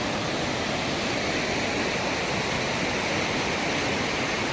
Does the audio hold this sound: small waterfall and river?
yes